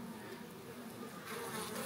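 Honeybees hum steadily around an open hive, including a larger drone, in a dense, continuous buzz with no talk, swelling slightly louder toward the end.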